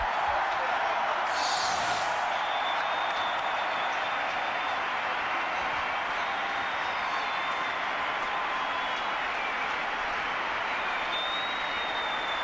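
Cricket crowd at a Pakistan–India one-day international in Karachi applauding as batsman Inzamam ul-Haq walks off, a steady broad roar of clapping and cheering that fills the whole stretch at an even, distant level.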